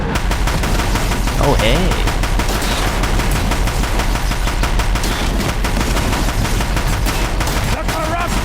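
Rapid gunfire from a weapon in the PS5 version of Horizon Zero Dawn, dense and continuous over game music and effects, with a brief spoken exclamation near the start.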